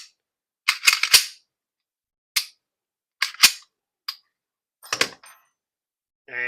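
Sharp dry clicks of a trigger function check on a Palmetto State Armory 5.7 Rock handgun fitted with an Eden Perfection flat trigger, close and crisp, in small clusters of two or three with quiet gaps between.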